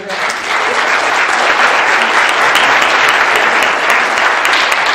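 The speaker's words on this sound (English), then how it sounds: "I just want you to give her a round of applause for that." Loud, sustained applause from a town hall audience for a city government official, a dense and close roar of many clapping hands that holds steady for several seconds.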